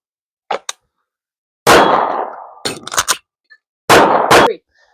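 Several sharp pistol shots from a SIG M17/P320 handgun fitted with an aluminum frame, fired in quick bursts with gaps between strings, loud and close, each crack ringing briefly, no talk.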